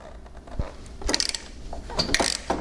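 Ratchet wrench clicking in short bursts while loosening the head pipe nuts on a Harley-Davidson M8 engine, close up, with brief metallic taps between the clicking runs.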